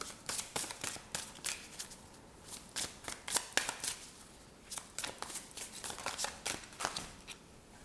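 A deck of tarot cards is shuffled by hand up close, giving rapid riffling bursts and crisp flutters in an uneven rhythm, repeated several times over a few seconds.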